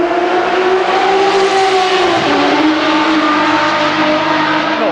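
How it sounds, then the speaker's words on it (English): A Ferrari race car comes down the pit lane, its loud engine note rising and shifting as it nears and passes close by, steady and dominant with no talk over it. "it might get a bit noisy in a second because we'll see them coming down the pit lane"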